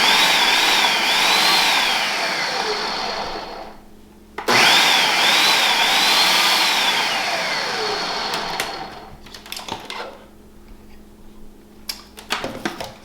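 Food processor pulsing homemade salsa ingredients: two long whirring motor runs with a short pause between them, then choppier, stuttering bursts and rattles as the blades stop and start, close and fairly loud with no talking.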